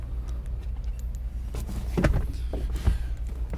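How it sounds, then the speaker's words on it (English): A large spare tire is slid into the cargo area of a 2022 Mitsubishi Outlander, giving low rubbery scraping and dull thumps close by over a steady low rumble. "now let's take this spare tire and slide it in right there"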